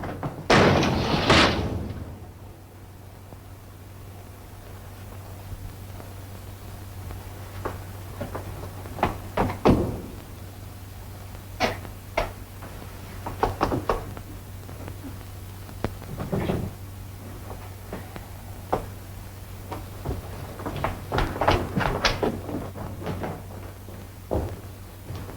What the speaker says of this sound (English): I'm going to lock my door too, just the same.